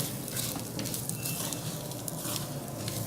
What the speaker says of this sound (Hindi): 1 से 2 मिनट तक मज़ीद भूनें।